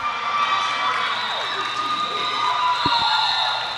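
Roller derby crowd noise: a steady roar of cheering and chatter fills the venue throughout, with a couple of sharp thuds near the end.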